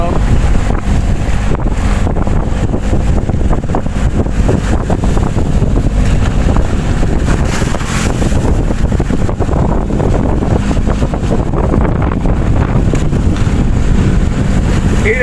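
Strong wind buffets the microphone on a fishing boat at sea, roaring in loud, uneven gusts over the wash of big waves throughout.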